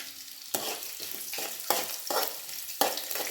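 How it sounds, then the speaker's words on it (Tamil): Cashew nuts roasting in a hot pan for Pongal: a continuous sizzle cut by five or six sharp scraping strokes of a spatula, close and fairly loud, with no voices. "வறுத்துடணும்."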